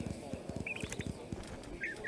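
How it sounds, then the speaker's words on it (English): Hoofbeats from a horse in a barrel-racing riding video game clatter in a quick, fairly close rhythm, followed by a couple of short honking whinny-like calls, with no talking. "The horse started bucking in the alleyway."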